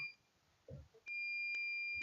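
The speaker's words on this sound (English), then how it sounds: "That's the washing machine just gone off." Washing machine sounding its end-of-cycle beeps in a kitchen: three sharp, fairly loud electronic tones in a steady rhythm after a short pause, with a few faint knocks beforehand and no talking.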